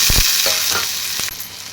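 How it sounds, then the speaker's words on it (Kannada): Onion and tomato frying in hot oil, a steady sizzle with a few sharp scraping stir strokes near the start, close up and with no voices. "ಉಳ್ಳಾಗಡ್ಡೆ ಫ್ರೈ ಆದ್ರೆ ಟಮಾಟೆ ಹಣ್ಣು ಫ್ರೈ ಆದ ರೀ"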